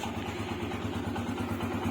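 Steady, even idle of a cool motorcycle engine just after starting, a close low pulsing putter with a faint mechanical clatter and no talking.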